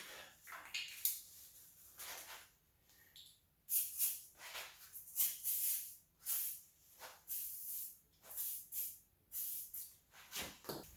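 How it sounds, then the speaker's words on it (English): WD-40 spray and steel wool scrubbing rust off a car's rear hub assembly: repeated rasping, hissy bursts of scrubbing in an irregular rhythm, fairly quiet and close, with no talking. "All I'm going to be using is some WD-40 and some steel wool."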